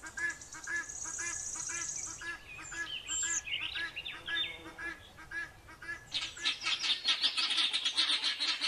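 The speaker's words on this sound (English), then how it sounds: "guinea fowl" Guinea fowl calling, loud and close, with rapid harsh rhythmic cackles that run in dense bursts, swell into a louder flurry near the end and carry on without pause.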